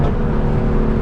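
A tuned Infiniti Q50 accelerating hard gives a loud, gritty engine roar heard from inside the car, sustained and steady for about a second with no voices.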